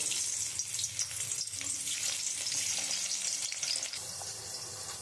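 Salted, turmeric-rubbed teasel gourd fries in oil in a wok, a soft, steady hiss of sizzling that stays fairly quiet and even throughout.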